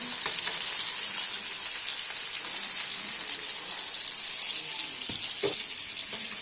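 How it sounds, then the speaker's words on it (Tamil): Fish frying in hot oil in a pot, a loud continuous sizzle and crackle close by, with occasional pops and clinks from a utensil. "இந்த மீன் வறுக்கிற சவுண்ட் இருக்குல்ல, அது ரொம்ப சூப்பராக இருக்குது கேட்குறதுக்கே"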